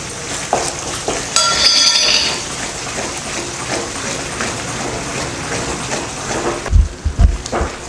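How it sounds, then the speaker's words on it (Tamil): Jaggery is stirred into a bubbling ginger pickle cooking in tamarind in a pan, with close clinks and scraping of a utensil over a steady wet, churning bubble, ending in a few low thumps. "அடுத்து இதில் வெள்ளத்தை சேர்த்துக்கலாம்"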